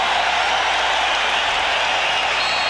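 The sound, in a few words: capacity crowd cheering at Chicago Stadium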